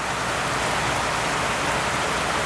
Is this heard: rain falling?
yes